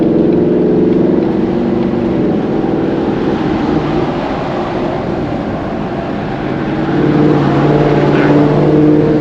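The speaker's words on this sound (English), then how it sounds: "I do like how it rev matches and downshifts in track mode over just standard drive mode" Car engine running hard in track mode on a night drive, its steady loud drone rising and falling as it rev-matches through downshifts, heard from inside the cabin without speech.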